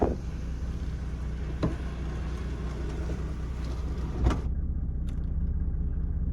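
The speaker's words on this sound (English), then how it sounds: "We got a nice big sunroof. Close it up." The large sunroof of a 1993 Mercedes 300SD slides shut over a steady low cabin rumble, with a soft mechanical run that ends in a brief thunk as it closes.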